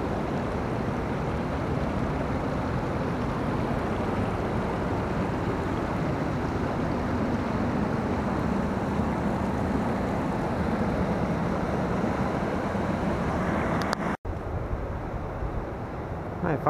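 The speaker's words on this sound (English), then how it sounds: "Water come down from the hill up there." Steady rushing water spilling down a hillside at Big Falls on the Eau Claire River in Wisconsin, a constant broadband roar with wind buffeting the microphone and a short dropout near the end.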